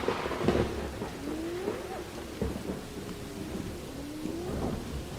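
Heavy rain pours steadily with low rolling thunder rumbling through it, opening a recorded metal song; a few faint whistling tones drift over the storm, with no voices.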